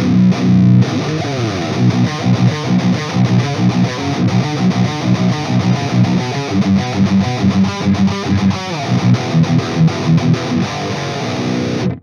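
Heavily distorted electric guitar through an AX8 amp modeler, playing riffs with chugging palm-muted rhythms and sustained chords, slightly scooped tone, loud and continuous with no voices.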